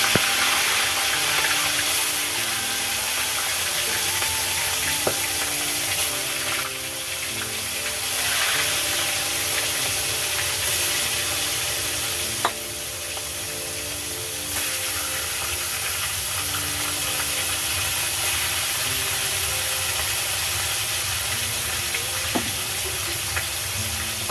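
Fish fry in a pan with a steady, close, loud sizzle and hiss that persists throughout, punctuated by small pops and stirring, with no speech.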